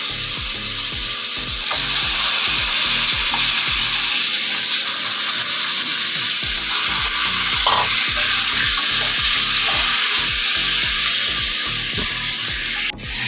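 Chicken pieces sizzle in butter with bay leaves in a hot pan for a chicken stew, a loud, close, continuous frying crackle broken by scraping and stirring sounds throughout.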